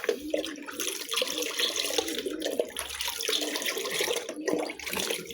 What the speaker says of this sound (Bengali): পানিগুলো আমি মিলাবো।